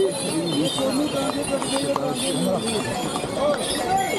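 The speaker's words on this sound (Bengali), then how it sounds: "ঘোড়া যাওয়ার সময় ঘোড়ারা চলে যাক" Horses' hooves clip-clop steadily as they pass nearby on a mountain path to Kedarnath beside the Mandakini river, with voices talking over the rhythmic clatter throughout.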